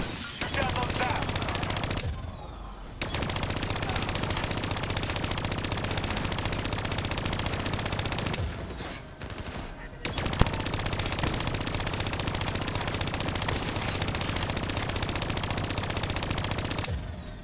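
Loud, sustained automatic gunfire rattles in Call of Duty Black Ops III. Long continuous bursts are broken by two brief pauses of a second or so.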